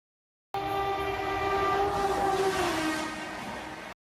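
The Gatimaan Express train sounds its horn in a long, steady blast as it rushes past nearby, its rumble filling the background.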